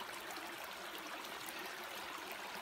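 Steady rain falls on a March creekside campsite along Coyote Creek, a continuous hiss of water that stays even and fairly loud throughout, with no voices.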